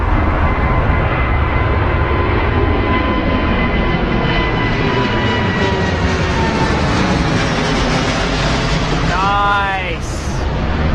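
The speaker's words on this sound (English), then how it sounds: "Oh, low departure on this Dreamliner." A Boeing 787 Dreamliner makes a low departure from Heathrow Airport, its engines a loud, steady roar that holds throughout, with a whining tone slowly shifting in pitch and a brief chirp near the end.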